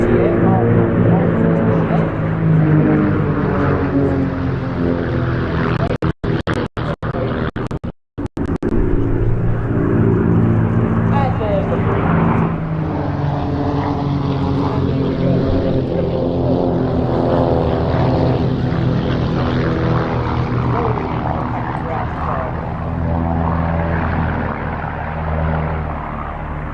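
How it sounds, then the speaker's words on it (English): A propeller aircraft passing at an airshow, with a loud, sustained engine drone that fills the whole stretch and swells in pitch midway, alongside heavy crowd or commentary-like noise and a brief dropout. "Pulling up now, and watch the aircraft"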